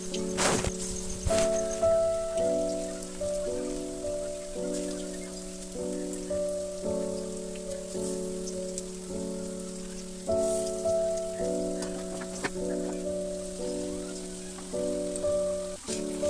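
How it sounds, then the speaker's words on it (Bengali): Pakoras made with drumstick flowers fry in hot oil, a steady crackling sizzle throughout, moderately loud and close, with a faint repeating tonal hum in the background. "আমি কিন্তু তারপর এখানে মাছের ঝোলটাকে রেডি করে নিয়ে এখানে গরম গরম একদম পকোড়াগুলো ভেজে নিচ্ছি"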